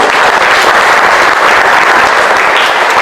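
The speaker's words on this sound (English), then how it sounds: "Give them one more round of applause" Audience applause for first graders at a school camp art show, a dense, loud burst of clapping from a crowd, continuous and close for the full stretch.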